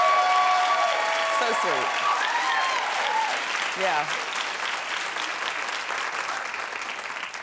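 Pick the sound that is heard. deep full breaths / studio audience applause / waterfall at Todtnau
studio audience applause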